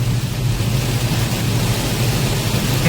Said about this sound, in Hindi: बाहर जम के बारिश हो रही है और हम अंदर आराम से बैठे और गाड़ी चला रहे हैं।